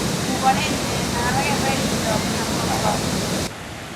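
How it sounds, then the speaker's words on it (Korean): Iguazu Falls in Argentina roars steadily as a loud, unbroken rush close by, with faint voices underneath before the noise suddenly drops away near the end. "가는 길 곳곳마다 다양한 각도로 떨어지는 폭포와 마주하게 된다"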